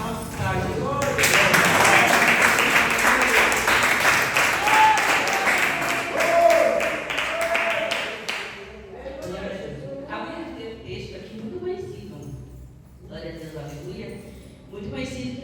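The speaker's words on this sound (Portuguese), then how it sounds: "Vamos falar um salve de palmas para Jesus." A congregation claps for Jesus during a church testimony service in Itaim Paulista, a dense burst of applause for about eight seconds that then thins into scattered claps under a talking voice.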